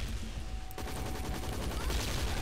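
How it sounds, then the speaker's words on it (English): Video game gunfire in Hazrd Ops, a dense, continuous stream of rapid shots running steadily throughout with no pauses, loud and close. "And you need to keep firing at this guy."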